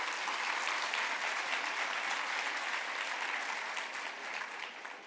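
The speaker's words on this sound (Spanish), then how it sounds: "Un aplauso, por favor." Audience applause for the module 4 speakers at a wound-care conference, an even wash of many hands clapping at moderate distance, sustained throughout with a slight fade at the end.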